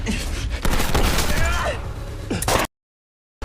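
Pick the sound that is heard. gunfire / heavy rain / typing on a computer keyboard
gunfire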